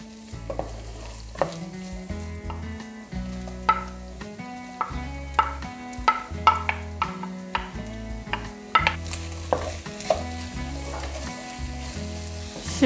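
Onions frying with garlic in a pan for çoban kavurma, with a steady close sizzle and repeated sharp knocks and scrapes as a utensil stirs them, and no talking.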